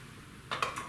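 Short metal clicks and clinks as steel beaters are slid into the back sockets of a CUSINAID 5 speed hand mixer, a few close taps in quick succession with no talking.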